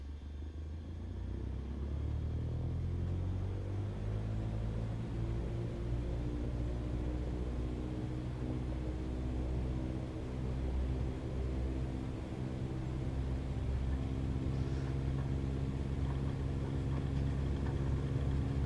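Small airplane engine in a flight simulator game during the takeoff roll, a steady loud droning hum with rich low harmonics that holds constant throughout, with no talking.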